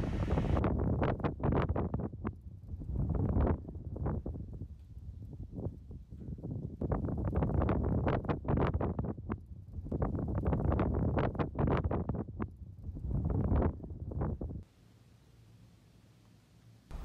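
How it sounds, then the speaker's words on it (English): Strong gusting wind at a fire tower buffets the microphone in rumbling waves for most of the clip, then drops off sharply to a quieter hush. "It's windy up here as well."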